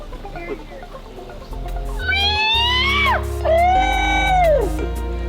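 A voice imitates a screeching owl as a turkey-hunting locator call: two long, loud, descending wavering screeches, the second lower and drawn out, with faint chatter before.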